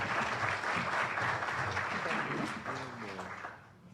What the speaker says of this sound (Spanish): Recibamos con un fuerte aplauso al Magister Miguel Pecho